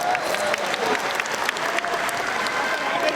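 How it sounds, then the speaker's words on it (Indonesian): Dense applause from a crowd of volunteers gathered at an Amanat Indonesia declaration event in Indonesia, a steady, loud wash of clapping that fills the whole stretch with a few speech-like murmurs mixed in. "Boleh tepuk tangan buat semua yang hadir di sini."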